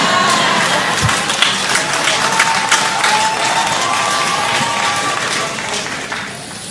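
Sustained, loud applause from a church congregation during a sermon on singles and marriage, dense clapping with scattered cheers lasting throughout and fading slightly at the end.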